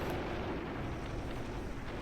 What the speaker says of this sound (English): our shrapnel here from the explosions of our burning vehicle are getting a few kills